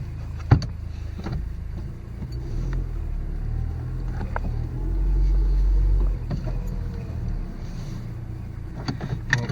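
Steady low engine and road hum from a Nissan Versa rolling along on a test drive after fresh rotors and pads, with a few faint knocks and clicks, no talk.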